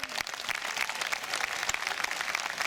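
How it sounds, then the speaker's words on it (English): Steady applause from a crowd, dense clapping that holds at an even level throughout without a clear swell or fade. "So one thing that I wanted to do was call out another round of applause for Tim and his team for the Saber Project"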